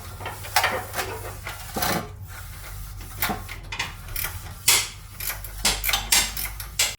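Scraping, clinking and wiping on a Holden Commodore VE SS/SSV transmission oil pan with a magnet in it, irregular metallic knocks and rubs at close range, steady background hum, no speech.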